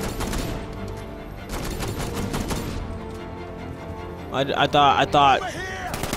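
Red Hood firing a gun in Batman: Arkham Knight, heard as bursts of rapid gunfire that come and go amid game sounds, with someone speaking briefly near the end.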